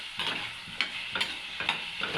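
A spoon moves tomatoes back and forth as they fry in a pan, giving four or five evenly spaced scraping sweeps over a light, steady sizzle, close up with no talking.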